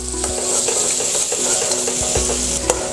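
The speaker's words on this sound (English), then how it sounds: "I'll add the brinjal. And give it a good mix." Brinjal being stirred into soft tomatoes in a frying pan, a steady loud sizzle with scraping strokes of the spoon against the pan, close up and with no talking.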